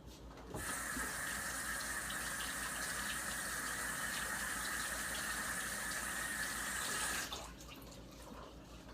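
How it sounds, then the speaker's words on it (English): Greasy hands washed under a running kitchen tap: water flows in a steady close stream for about seven seconds, then shuts off abruptly. "I'm gonna wash my hands off real quick because my hands are all greasy"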